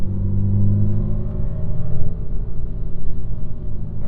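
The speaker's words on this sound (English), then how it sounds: "this additive synthesis mimic engine orders by using sine waves to create this modulation and roughness of typical combustion engines" A synthesized combustion engine sound from an NVH simulator, built from sine-wave engine orders, drones as a steady, close, rough rumble with slight pitch modulation and no talk.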